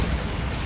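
Bombarda spell blast from Hogwarts Legacy, a short, loud, dense explosive boom filling the moment with rumbling low end and no pause.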